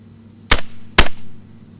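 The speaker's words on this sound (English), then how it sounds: "I'll get a shot on him." Two sharp gunshots from a firearm in the DayZ video game, about half a second apart, each a punchy crack with a short tail over a low steady hum.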